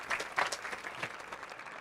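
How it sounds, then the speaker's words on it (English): Students from Austin-area schools at a student showcase give themselves a round of applause, a moderate burst of clapping with a few louder peaks that thins out toward the end. "Give yourselves a round of applause."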